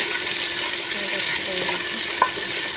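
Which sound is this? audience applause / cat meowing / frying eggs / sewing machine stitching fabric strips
frying eggs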